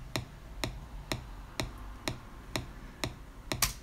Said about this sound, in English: the click is the URI, U-R-E-I click, and this is like the standard one